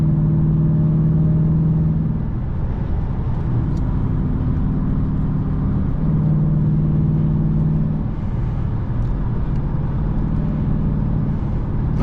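A 5.7 Hemi V8 in an RT drones loudly and steadily from inside the moving car, its pitch dropping and climbing as it downshifts around the second and sixth seconds.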